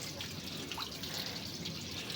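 Water leaking from a tank, a continuous close hiss and trickle with faint dripping textures, steady and moderately quiet, no voices.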